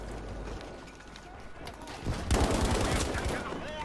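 Gunfire in Battlefield V, a muffled background stretch giving way to a burst of rapid, loud shots and rattling fire in the second half, with someone talking over it.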